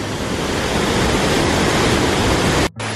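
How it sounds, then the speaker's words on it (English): A powerful mountain waterfall near Chiang Mai, Thailand, roars in a loud, unbroken rush of water, briefly cut off near the end before the roar resumes. "The mist from the waterfall feels really good."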